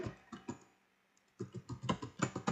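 Typing a customer name into an MS Excel spreadsheet on a computer keyboard: a quick burst of close keystroke clicks, a brief pause, then a faster run of keystrokes.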